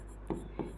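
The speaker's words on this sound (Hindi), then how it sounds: "अब हम लिखते हैं" Two quick marker or chalk strokes scrape across a classroom board, short and faint against a quiet room hum.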